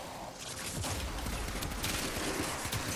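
Dense, continuous gunfire from the Ballistica Incarnon weapon in Warframe, a rapid wash of overlapping shots and impacts at steady loudness throughout.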